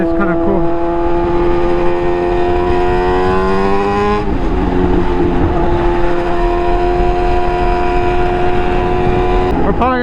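A loud tuned Suzuki GSX-R1000 motorcycle ridden through city streets, its engine droning steadily and close, with pitch rising and falling through gear changes and a sharp throttle shift midway.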